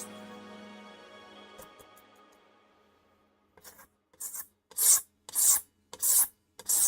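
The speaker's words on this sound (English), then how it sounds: "So we are sanding, we are buffing out the edges for Chris so that he doesn't feel any sharp" Edges of a fightstick case are sanded and buffed by hand, a faint motor hum dying away before a run of loud, rhythmic rasping strokes, about six in quick succession, with no speech.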